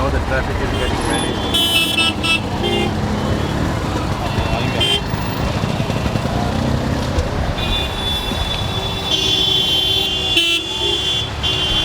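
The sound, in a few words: road traffic with honking horns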